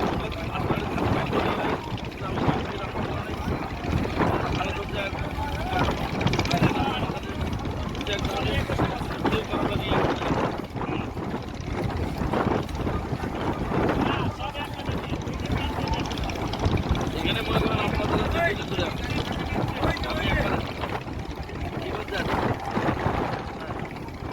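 The passenger launch Adventure-9 speeds along a river, its engine drone and rushing water roaring steadily up close with wind buffeting the microphone, and a voice talks over the din.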